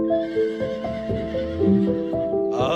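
A cartoon horse gives a long, loud, wavering neigh that rises and falls in pitch over a couple of seconds, with faint hoof clops and a sharp noisy burst at the end.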